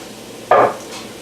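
Bell peppers and onions land in a hot pan for sautéing chili vegetables, giving one short, loud burst of hiss and clatter that settles into a quieter sizzle.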